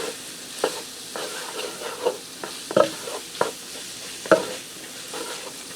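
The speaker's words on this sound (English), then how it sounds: "I'm just going to give that a quick stir to get the seasoning mixed in with the ground beef" Seasoned browned ground beef is stirred in a pan for a taco tot casserole, making a soft low sizzle with a series of distinct spoon scrapes and taps spaced unevenly over several seconds, no voices.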